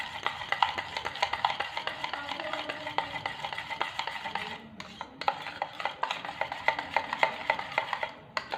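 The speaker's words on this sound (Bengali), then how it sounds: "দিয়ে আবারও কেকটাকে ভালোভাবে ফেটিয়ে নিচ্ছি" Spoon or whisk beating a sponge cake batter of crushed biscuits and white oil in a bowl, a steady run of quick scraping clicks and taps, close and alone, with a brief pause midway.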